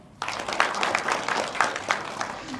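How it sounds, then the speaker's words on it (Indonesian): Studio audience clapping at a televised regional parliament dialogue forum in Banten, a burst of applause starting abruptly and continuing with uneven claps, fairly close and loud, with no voices over it. "Boleh tepuk tangan?"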